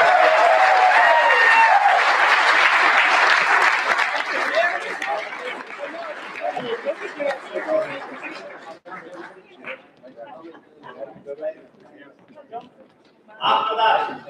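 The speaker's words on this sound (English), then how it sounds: "Next for applause" Crowd at a GAA gala banquet applauding, loud sustained clapping mixed with chatter that gradually thins into scattered claps and voices, with a brief surge of clapping again at the end.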